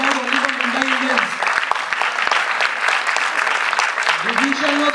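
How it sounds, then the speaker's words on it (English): An audience applauds children performing the Ramayana, with steady, dense clapping throughout and a voice speaking over it near the start and end. "Applause are not reserved only for Mumbai Indians."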